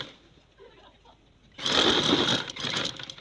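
A sewing machine stitches a trouser, starting abruptly after a quiet moment and running in a steady close whir for the rest of the moment.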